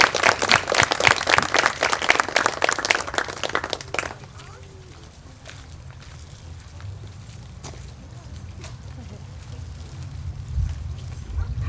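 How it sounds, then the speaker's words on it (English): An audience breaks into loud, sustained applause for the honorees at a Light of Hope awards ceremony, the dense clapping lasting about four seconds before fading into quiet room murmur. "we have one last round of applause for all of this year's honorees."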